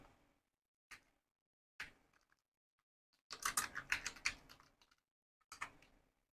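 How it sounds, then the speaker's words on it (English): Typing on a computer keyboard at a desk, with a few isolated key taps followed by a quick close burst of clattering keystrokes, then one more short flurry, all alone in a quiet room. "And now let's type something."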